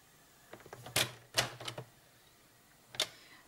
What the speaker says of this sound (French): nous allons commencer par marquer un pli au centre de cette bande